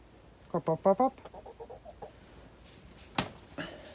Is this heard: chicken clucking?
yes